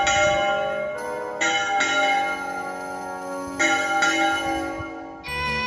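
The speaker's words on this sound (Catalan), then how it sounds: "no ha deixat mai d'assenyalar les nostres festes, els gojos i els dols, amb el volteig solemne de les seues campanes" Church bells of La Sang in Llíria swing in full peal, several bells ringing together in dense overlapping strikes with long, bright sustain and periodic fresh clangs, loud and close with no talking.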